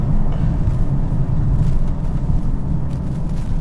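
Cabin view of a 2022 Mercedes GLB35 AMG under acceleration with the sunroof tilted open, a dense, loud low engine drone and rush filling the whole stretch, with a brief dip in level near the middle as though shifting gears.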